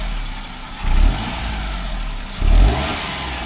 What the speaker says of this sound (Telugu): ఇంజిన్ స్మూత్నెస్ మీకు చూడండి ఆర్పిఎం